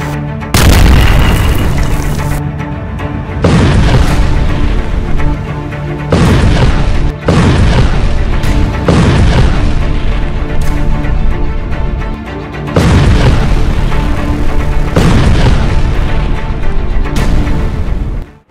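Carpet bombing of buildings in Gaza sets off a series of heavy, booming explosions, each a loud blast with a long rumbling tail, some overlapping in quick succession.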